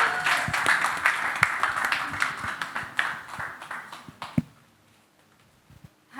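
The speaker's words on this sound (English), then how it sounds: "Please, round of applause for Somto." A round of applause from an audience at a customer service event, fairly close and moderately loud, thins into scattered claps and fades to near silence for the last couple of seconds.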